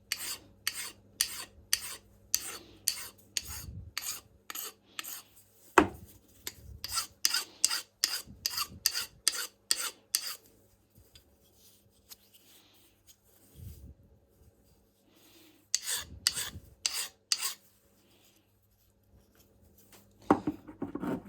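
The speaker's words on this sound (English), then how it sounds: "I think I'll do a little chamfer here." A Juuma No 4 bench plane cuts a small chamfer on a wooden edge. Close, rasping strokes come in quick rhythmic runs, split by a few short pauses, with no talking.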